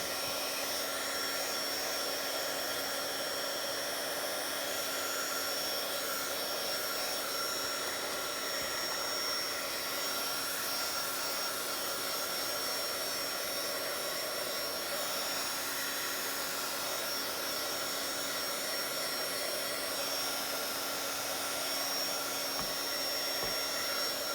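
Hair dryer blowing steadily on a painted mixed media page, a continuous loud whirring rush with a constant motor hum that runs unbroken from start to finish with no talking.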